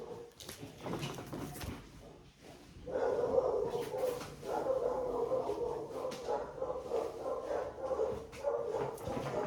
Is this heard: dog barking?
yes